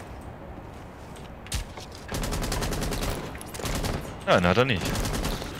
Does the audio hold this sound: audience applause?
no